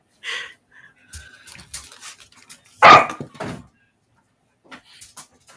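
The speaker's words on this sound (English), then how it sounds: "I'm just having dog issues." A dog gives a few scattered barks and whimpers indoors, one sharp, louder bark standing out among quieter noises and brief pauses.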